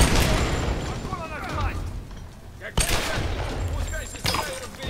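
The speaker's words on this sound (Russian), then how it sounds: "Вот что там сейчас взорвалось?" Tomb Raider 2013 firefight with sustained gunfire and an explosion, a dense roar of combat noise broken by a sharp blast near the middle, with someone talking over it.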